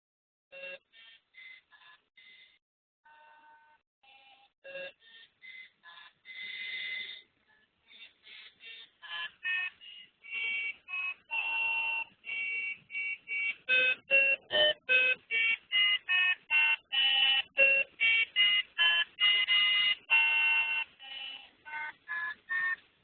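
A TI Innovator Hub plays "Take Me Out to the Ball Game" as a sequence of bright electronic beeps, sparse and halting at first, then a steady run of clipped square-wave notes, close and alone.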